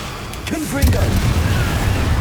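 A Confringo spell blast in Hogwarts Legacy, a dull booming burst with low rumble that follows a brief spoken incantation and lingers as a dense roar.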